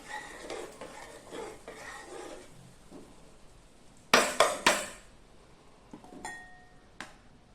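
Sambar ingredients get stirred inside a pressure cooker, soft scraping at first, then three loud metallic clanks of a spoon against the pot, followed by a faint ringing tone and a last light knock.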